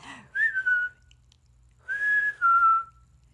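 Two bursts of clear human whistling, each a sliding tone, separated by a short pause, loud and close, imitating a walrus whistle.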